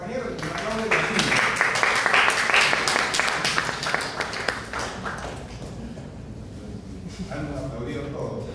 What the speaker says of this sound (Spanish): un fuerte aplauso para el compañero